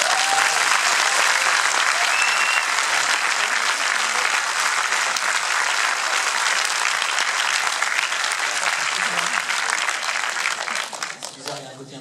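A packed hall audience at a magazine's 40th anniversary night applauds loudly and continuously, the dense clapping tapering off near the end.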